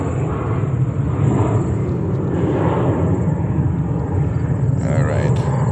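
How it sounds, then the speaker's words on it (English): A Hawaiian Airlines Airbus A330-200 airliner taxiing toward a runway, a steady loud low jet rumble with broadband roar held throughout, heard outdoors at a distance with a faint whistle and a brief rising whine near the end. "See Hawaiian 330-200 taxiing to runway 22"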